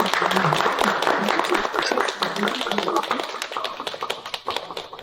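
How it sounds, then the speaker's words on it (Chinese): An audience applauds to welcome Lin Zhenwan, a woman entrepreneur, onto a stage; the clapping is dense and steady throughout, with a few louder individual claps and cheers mixed in. "让我们掌声有请林真婉女士。"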